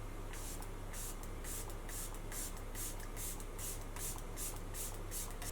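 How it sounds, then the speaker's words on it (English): A bottle of long-lasting makeup setting spray gives a quick series of about a dozen soft, hissing pumps of fine mist, evenly spaced and close by. "the long-lasting setting spray."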